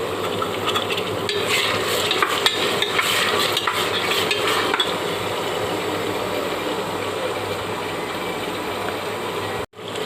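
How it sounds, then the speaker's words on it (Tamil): Tomatoes and garlic sautéing in a pan for an eggplant and prawn gravy: a loud, steady, close sizzle with stirring scrapes throughout and a brief drop near the end. "அடுத்து தக்காளி தக்காளி போட்டு நல்லா வதக்கி விடணும்"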